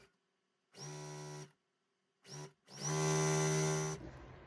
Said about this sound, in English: So I'll go ahead and sew it up